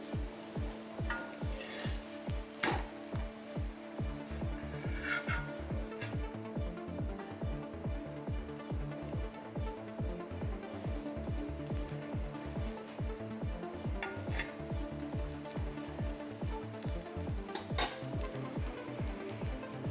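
Stuffed jalar murthaba, a net roti, fries in oil in a pan with a steady close sizzle, broken by regular rhythmic taps and light metal clinks as it is moved around.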